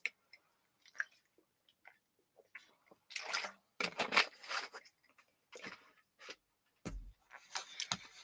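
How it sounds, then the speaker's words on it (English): A streamer takes a few gulps of water, soft close swallowing and sipping sounds with small bumps and clicks, quiet and intermittent with no talking. "And I'm first going to hydrate."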